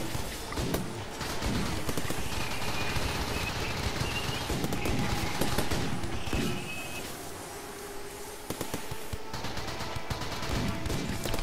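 Gunfire in the colony-building game RimWorld, heard as a steady string of close sharp shots and bursts layered with game sound effects and short tones, with no talk.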